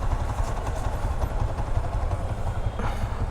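A Yamaha R15 motorcycle engine idles nearby with a steady, rough, clattering rumble that stays even in level throughout.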